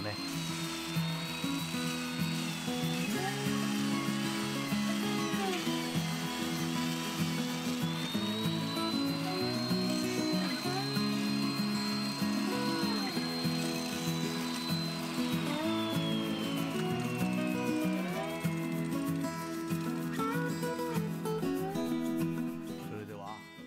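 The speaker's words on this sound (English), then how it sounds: "I can make the hole by pulling this chisel down 3 times." An old hollow chisel mortiser (kakunomi) cutting a 30mm square hole in a curved timber beam, a steady loud motor whine with shifting pitch and grinding bite as the chisel is plunged, continuous and close.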